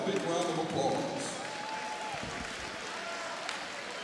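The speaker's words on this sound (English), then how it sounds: "Let's give them all a big round of applause." An audience at a college basketball game applauds honor students at center court, a sustained wash of clapping that swells early and then settles, with a voice heard under it.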